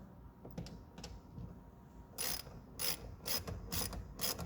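A hand ratchet snugs the bolts on a 2008 Dodge Caliber side mirror: a few faint clicks at first, then a series of louder, close ratcheting bursts in quick succession, with no talking.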